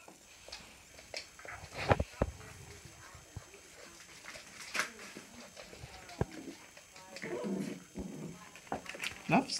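Puppies playing indoors around a sofa, with scattered whimpers, yips and soft barks, and occasional thumps and rustling as they move. A person talks over them at times.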